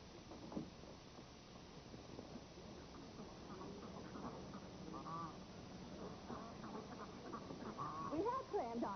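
Ducks quack in a sitcom scene, a scattering of nasal honks and quacks rising toward the end, heard faintly alongside the muffled voices of people talking.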